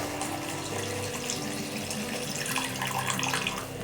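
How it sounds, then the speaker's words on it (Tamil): Tamarind water pours steadily into a Chettinad fish curry with sankara fish and coconut, giving a close, continuous splashing and gurgling with no talk over it. "இப்போ நம்ம இது கூட புளிக்கரைச்சல் சேர்த்துக்கலாம்."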